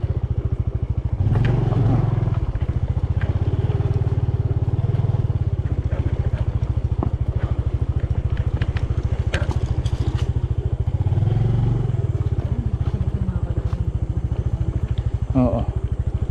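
A Yamaha PG-1 motorcycle rumbles steadily up close as it rides over a rocky gravel mountain trail, its low engine drone continuous with scattered clatter and scrapes of stones beneath the tires, while a person talks over it.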